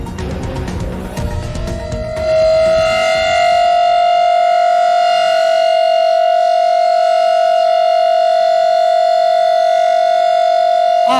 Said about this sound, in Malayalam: ഇത് ജാഗ്രതയിലേക്ക് പോകുന്നതിനായി നമ്മുടെ എയർ റെയ്ഡ് സൈറൺ ആണ് ഇപ്പോൾ ദില്ലിയിൽ മുഴക്കിയിരിക്കുന്നത്.